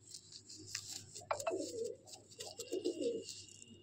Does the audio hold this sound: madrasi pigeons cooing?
yes